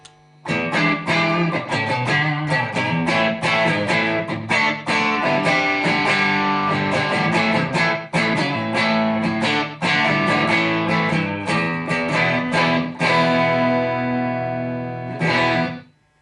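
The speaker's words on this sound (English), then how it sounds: "dark matter distortion is also great for just adding a little bit of attitude to your clean sound" Stratocaster electric guitar through a TC Electronic Dark Matter distortion pedal switched on, playing a steady, busy riff of driven chords and picked notes for about fifteen seconds, loud and close, ending on a brief final strum.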